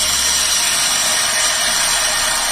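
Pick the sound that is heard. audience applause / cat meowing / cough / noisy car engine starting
noisy car engine starting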